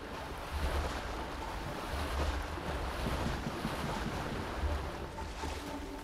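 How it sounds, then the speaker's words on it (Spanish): Water in the video game Kena: Bridge of Spirits, a steady broadband rush like surf or flowing water with occasional low swells, continuous and fairly loud with no voices. "Parece que hay agüita también."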